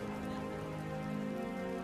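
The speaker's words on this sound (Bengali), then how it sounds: "আস্তে নাস্তে বৃষ্টি শুরু হয়ে গেল যে" Steady rain falling on a surface at a village market, a continuous even hiss with a low hum running underneath.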